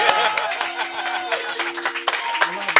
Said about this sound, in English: when you're done clapping for me, clap for Phil, everybody